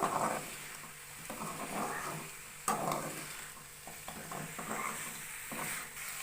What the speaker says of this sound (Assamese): এনেকৈ 15 মিনিটমান ভাজি থাকিব।